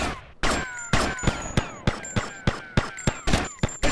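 Gunfire in GTA Vice City, with about a dozen sharp, loud shots fired in an uneven rhythm, each followed by a short ringing decay.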